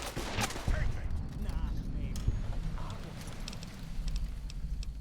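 Gunfire in Fallout: New Vegas: scattered sharp shots and impacts, several in quick succession near the start, run under ongoing talk at moderate loudness.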